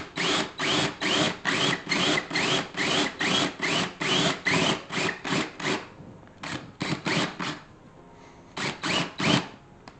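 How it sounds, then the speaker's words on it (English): A power drill cuts a 1-inch hole toward the center of a plastic fermenter lid, in rapid repeated whirring pulses that pause, then come in shorter clusters, close and steady. "Let's go ahead and drill the 1-inch hole towards the center here"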